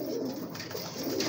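Pigeons coo on a rooftop loft, a low soft burbling that carries steadily through the brief moment at close range.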